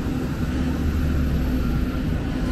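A private jet's engines produce a steady, loud, low rumbling drone that runs unbroken throughout, with no voices over it.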